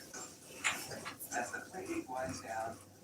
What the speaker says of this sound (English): Oh, I didn't see him bark.